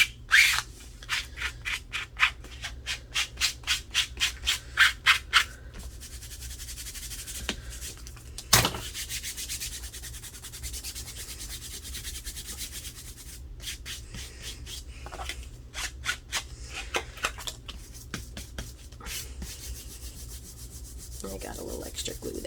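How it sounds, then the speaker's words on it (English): Fingers rub excess glue off the cover of a handmade spiral-bound book journal, a run of short, close scuffing strokes in quick bursts with a sharp tap partway through, then quieter intermittent rubbing. "I got a little extra glue there, so I'm just rubbing it off."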